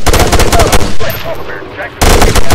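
Loud automatic gunfire in the Arma 3 military game, dense rapid bursts filling the start and end with a short lull between, in a valley firefight with radio-style voices.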